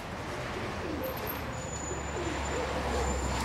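Racing pigeons sweep in overhead at the end of a 2022 pigeon race in Ptolemaida, with soft coos and thin, high chirps above a steady wash of outdoor wind and air noise.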